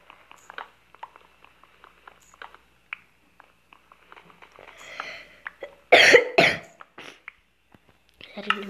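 Someone coughs twice hard and close, amid quiet clicks and light handling sounds, with a few faint voice fragments around it.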